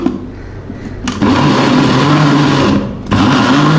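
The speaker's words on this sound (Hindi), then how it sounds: "इसके अंदर मैं कीमा डालूंगी, थोड़ा थोड़ा करके इसको ब्लेंड करेंगे।" A kitchen blender whirs loudly as it mixes kebab ingredients with vinegar. The close motor drone sharpens after a short ramp up, runs steadily, then dips briefly before surging back.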